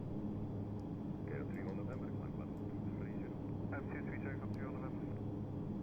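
Steady, loud turboprop engine roar from an ATR 72-500 at takeoff power in a flight simulator, a constant drone throughout with a faint voice murmuring over it.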